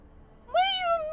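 A person gives a single drawn-out meow in imitation of a cat. The voiced call is close and clear, rising then sliding down, after a moment of quiet.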